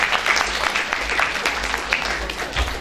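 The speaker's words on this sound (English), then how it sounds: "Round of applause for Anika." Many hands clap in a school auditorium at a literary festival, a full, even round of applause rising and holding steady for a few seconds.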